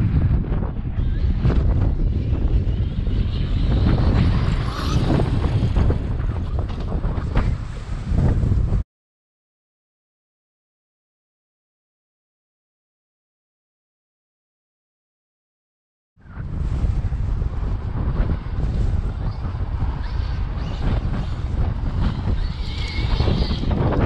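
Strong wind roars across the microphone outdoors at a sandy RC jump spot with a Traxxas XRT, loud continuous buffeting that cuts out to complete silence for several seconds, then returns just as loud.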